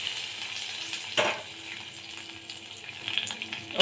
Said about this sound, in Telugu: సో తాలింపు అయితే ఇందులో వేసేస్తున్నానండి నేను.